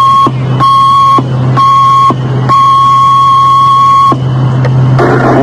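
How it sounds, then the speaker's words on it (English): Fire department alarm box transmission tones for a Brooklyn box alarm, a loud electronic beep repeated in long and short pulses with brief gaps, over a steady low hum. "alarm has been transmitted from box 2044."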